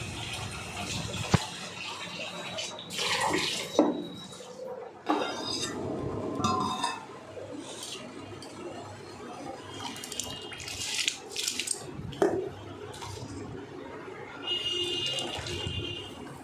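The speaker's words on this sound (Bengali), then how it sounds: "চালটা ধুয়ে দেবো এবার" Rice is rinsed in water in a pot in a home kitchen, with sloshing water, intermittent clinks of metal against the pot and a few faint running-tap bursts, close and moderately loud.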